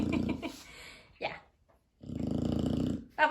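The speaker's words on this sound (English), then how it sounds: "I want a snoring Bao" A dog snores close by at home, giving a low, rasping buzz in two long stretches separated by a brief snort and a pause, with another short snort at the end.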